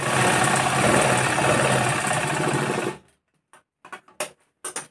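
A sewing machine runs steadily as it stitches a seam on a blouse sleeve, a loud, even mechanical whirr that stops abruptly after about three seconds, followed by a few faint handling knocks and rustles.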